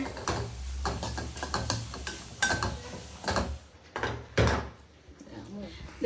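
Pumpkin flower and egg thoran being stirred in a pan, a run of light scraping, tapping clatters at close range, with some louder knocks along the way.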